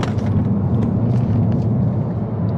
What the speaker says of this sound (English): the wheel spin in third gear!